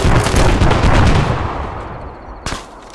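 A grenade explosion in the Arma 3 Star Wars mod lands as a loud, broad boom that rumbles and slowly fades over a couple of seconds, followed by a sharp secondary pop near the end.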